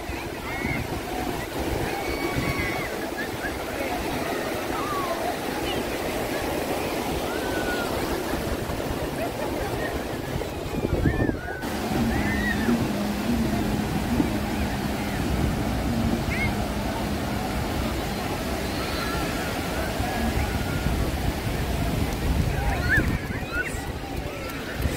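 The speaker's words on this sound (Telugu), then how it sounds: "The biggest beach in Udupi and the most క్రౌడెస్ట్ beach కూడా ఇది." Crowded beach at Malpe in Udupi, with steady surf and wind noise filling the scene throughout, distant boat engines and crowd chatter mixed into a continuous broad wash.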